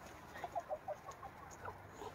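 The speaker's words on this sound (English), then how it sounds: "boisterous rooster who's not quite crowing fully yet, but, you know, he's crowing" Soft, close clucking from a few chickens in short bursts, with a faint, quiet outdoor background.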